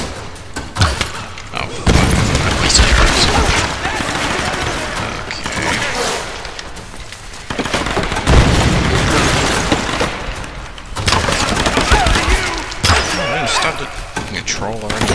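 Enemy gunfire in the Tomb Raider video game, set in geothermal caverns: loud bursts of shots and impacts keep coming in waves, with brief lulls, over dense game sounds and rumble.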